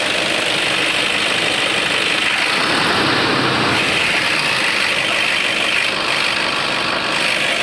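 A Toyota Innova engine idles after a V-belt replacement, a steady, loud, even running drone that holds unchanged throughout with no voices.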